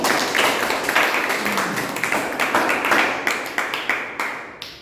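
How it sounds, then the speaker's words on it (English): A Toastmasters-style club meeting audience gives a round of applause, a burst of claps that thins into scattered, separate claps as it fades. "let's give another big round of applause."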